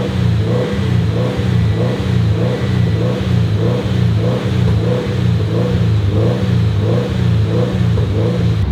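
A Subaru WRX STI engine with a failed head gasket, running hot, revs steadily and loudly in a pulsing, repetitive rhythm, close up and with no talking.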